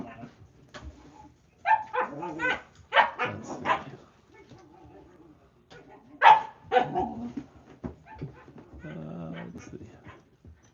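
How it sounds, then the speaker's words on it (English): Puppies being babysat bark, yip and whimper in short bursts close by, with a person talking quietly between and over the noise. "I got babysitting puppies. They're being a little loud."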